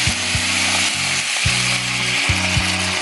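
Water added to a pumpkin curry in a hot pan brings a continuous hissing sizzle, steady and fairly loud, with background music underneath.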